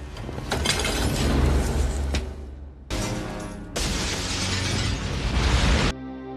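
A loud crashing burst as an aquarium's glass shatters in a film scene, followed by abrupt cuts to further sustained crashing debris and a quieter tail.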